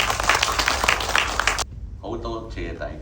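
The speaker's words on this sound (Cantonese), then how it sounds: "掌聲有請" A theatre audience claps for a Cantonese opera performer's stage talk, with dense applause over a hall voice in the first half that drops away as a speaker begins.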